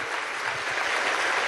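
Crowd applause for more than sixty international guests at an anti-imperialist forum in Venezuela, a dense, steady wash of clapping from a large audience, loud and unbroken.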